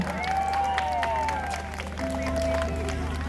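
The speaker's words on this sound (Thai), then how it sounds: "นายกองค์การบริหารส่วนตำบล บางรักน้อยเสียงปรบมือให้กับท่านด้วยครับผม" An audience at a temple fair in Bang Bua Thong, Nonthaburi claps for a subdistrict administration chief. Scattered claps sound beneath a sustained tonal music line, with a voice faintly present.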